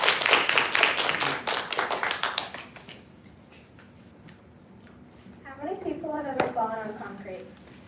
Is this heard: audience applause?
yes